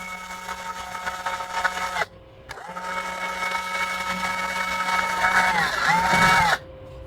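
A power drill whirs steadily in two long runs separated by a short pause while drilling holes in a small bench, its motor pitch dipping slightly near the end of the second run.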